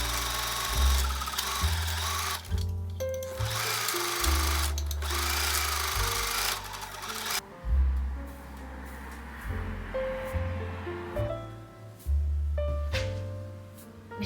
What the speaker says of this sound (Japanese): 後ろ身ごろと後ろ脇を縫おう。